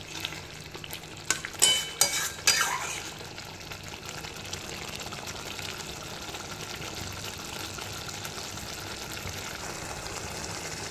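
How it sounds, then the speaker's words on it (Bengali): A spice paste frying in oil in a pan, with scraping stirs and clatter over the first few seconds, then a steady, even sizzle that carries on alone. "ভালো করে কষাবো যতক্ষণ না তেলটা ছেড়ে যাচ্ছে"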